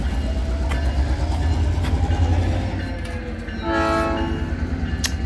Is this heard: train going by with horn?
yes